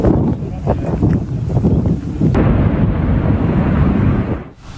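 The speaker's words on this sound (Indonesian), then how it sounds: "ledakan hancurkan sebuah gedung" A heavy rumbling blast from an Israeli air strike destroying a building, a loud, continuous roar that swells and holds for several seconds before fading out, with no clear voices.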